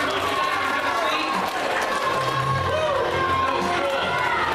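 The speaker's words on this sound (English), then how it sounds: "Give a big round of applause." Crowd noise at a middle school show, applause mixed with cheering and children's shouts, a busy steady din with voices calling out throughout.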